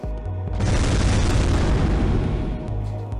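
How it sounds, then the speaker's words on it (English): A rocket weapon explosion resembling the Redeemer in Unreal Tournament 99, a single loud, close roaring blast that rises within half a second and rumbles steadily for about two seconds before easing off, heard alone. "Okay, that's some big explosion."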